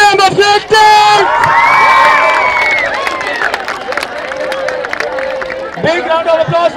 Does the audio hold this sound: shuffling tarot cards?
no